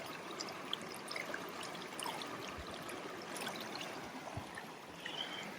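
Steady rushing water from a mountain stream pouring down a mountainside near Castner Glacier, Alaska, a continuous broadband wash with occasional splashes, moderately close and without voices.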